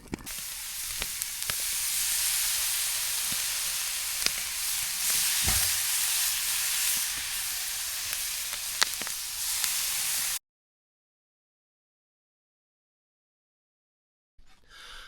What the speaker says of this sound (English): So I'm cooking my turkey on the open fire.